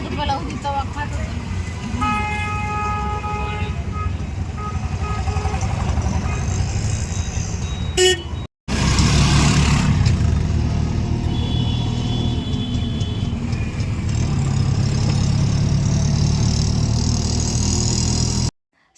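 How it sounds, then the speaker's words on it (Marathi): An auto rickshaw rides home through busy town traffic, its engine droning steadily while car horns toot repeatedly nearby; a brief dropout breaks the sound midway, and voices talk over much of the ride. "आता घरी चालला रिक्षा."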